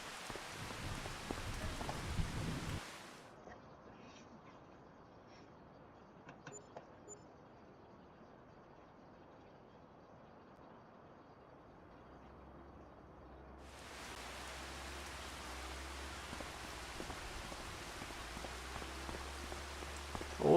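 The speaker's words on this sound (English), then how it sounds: "Holy cow, I thought we went to bed with it raining. Raining again." Rain falls steadily in the video game Farming Simulator 25, a soft hiss of drops that fades almost to silence partway through, then returns with a low rumble underneath.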